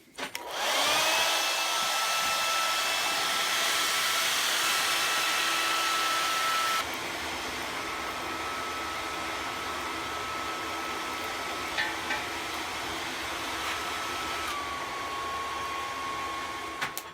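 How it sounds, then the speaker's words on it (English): A blow dryer roars loudly and continuously, steady airflow with a high whine, dropping to a lower setting partway through, with no talking, used to heat a forge for rebar. "And it all starts with a blow dryer."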